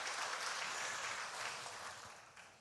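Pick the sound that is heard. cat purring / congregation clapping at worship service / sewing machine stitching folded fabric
congregation clapping at worship service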